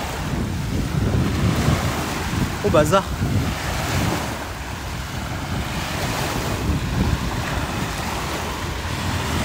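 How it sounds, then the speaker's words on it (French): Sea waves wash up on a beach under a gusty wind that rumbles against the microphone. The surf roars steadily and loudly throughout, and a brief voice cuts in. "Il y a des vagues, il y a eu un coup de vent là."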